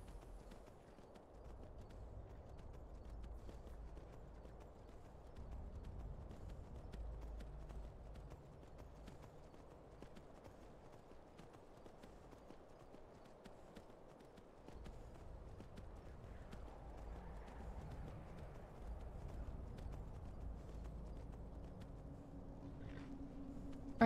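Horse hooves in the video game Skyrim, a soft steady clip-clop of walking under low ambient game music, fairly quiet, with a brief pause near the middle.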